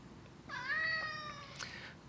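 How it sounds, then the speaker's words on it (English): A cat named Chico gives one drawn-out meow, clear and close but fairly soft, against a quiet room. "I hear you, little cat."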